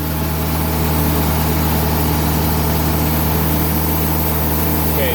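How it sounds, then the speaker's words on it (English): The diesel engine of a 2020 Timberking sawmill runs at a steady idle nearby, a continuous low hum with a faint rhythmic throb and no speech. "I love the purr of that diesel engine."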